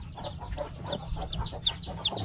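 A mother hen on a backyard village chicken farm clucks in a steady series of short, repeated calls, fairly close, with chicks' high peeps scattered over them and no talking.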